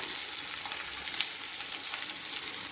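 Fresh coriander leaves sizzle steadily in a hot pan. The frying hiss is close and fairly loud, with light crackles throughout and no talk.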